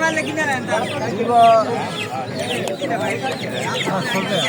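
Chickens at a crowded native poultry market cluck and squawk in busy, overlapping bursts close by, while people talk throughout.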